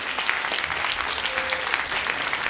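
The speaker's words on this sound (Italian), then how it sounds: "un grande applauso a Barbara Callegari" A crowd at a Christmas-season music, dance and theatre show applauds a dance teacher, with brisk, dense clapping held at a steady level across the short stretch.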